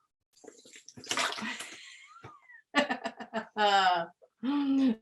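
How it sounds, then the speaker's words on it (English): Air blown through a straw into a water bottle pushes water out in a short gurgling, bubbling burst, followed by vocal sounds and laughter close by. "Blow on one straw, the air in there takes up space and pushes the water up out the end."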